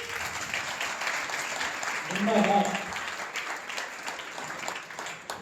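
Audience applause at a Jain poets' gathering in a temple hall in Surat, steady clapping running throughout and swelling midway, with a voice shouting over it.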